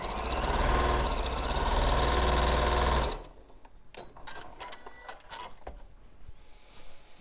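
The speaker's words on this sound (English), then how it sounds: "And then reverse up and sew all the way straight down." A sewing machine stitches a straight seam down quilting fabric, its steady loud mechanical whir running for about three seconds before stopping, followed by quieter scattered clicks and handling noises.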